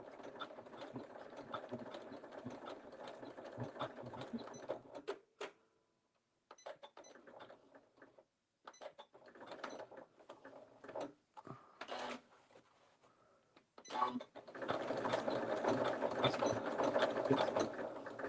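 A sewing machine stitching fabric scraps together runs in bursts of rattling, mechanical stitching, broken by short pauses and stops, then picks up again steadily.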